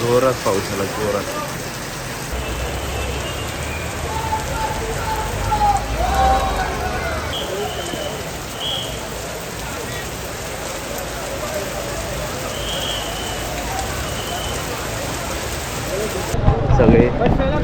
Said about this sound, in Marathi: जोरात पाऊस आला, जोरात.